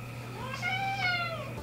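A cat meows twice in quick succession, clear and fairly close over a low steady hum, with no one talking.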